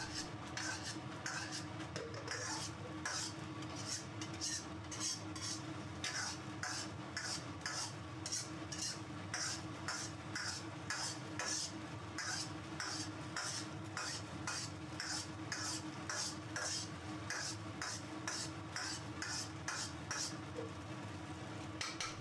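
Steady scraping and clinking of a spatula stirring braised dried tofu in a wok as the sauce is thickened with starch slurry, a continuous rhythmic scrape over a faint sizzle, close and alone.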